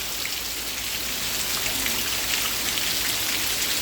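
Heavy rain pours steadily and densely in Rajasthan amid flooding, a constant hiss of drops hitting surfaces close by, with no voices.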